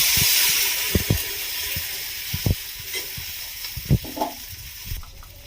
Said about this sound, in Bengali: এবার আমি এর ওপর থেকে জল ঢেলে দেবো।